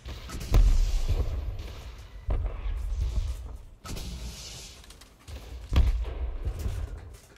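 Revenants blown apart by an L6 rocket launcher in Elite Dangerous, four separate heavy thudding explosions spaced a couple of seconds apart, each a sharp blast decaying into a rumbling tail.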